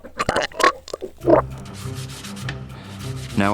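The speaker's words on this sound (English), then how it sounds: "Now I'll give it a sanding and remove some glue between the sticks." Close, rough rubbing strokes come from sanding a wooden table runner made from glued paint stir sticks to remove glue between the sticks, in several bursts of varying length with a steady background hum and no talking.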